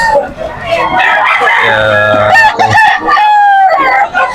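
A seven-month-old Nielsen Black stag gamecock crows loudly and close by at a rooster sale in Malolos, Bulacan, with other fowl calling over noisy background chatter from people nearby.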